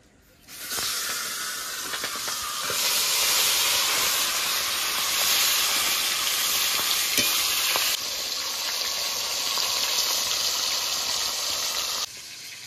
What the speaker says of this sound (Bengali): এবার মাছের মাথাগুলো ভেজে নেব।